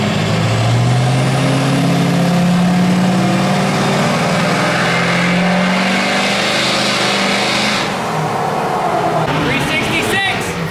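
A pickup truck's engine revs hard under load on a dyno, a loud sustained roar with rising and falling pitch that drops off near the end, with people talking over it.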